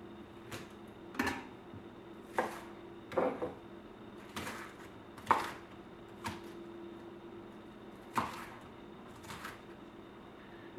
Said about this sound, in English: I just cut a slice like that off, chop it up a little bit.